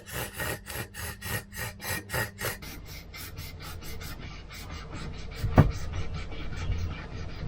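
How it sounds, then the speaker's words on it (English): A dual-grit sharpened Victorinox knife saws through rope in quick, rhythmic rasping strokes, loud and close, then settles into a steadier, softer scraping as the blade cuts deeper into the fibers. "you hear this very pronounced like sawing kind of sound"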